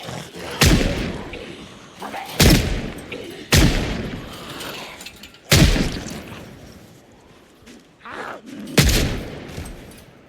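Gunfire in the video game Project Zomboid: six loud, close single shots, each a sharp crack with a short decaying tail, spaced irregularly about one to two seconds apart.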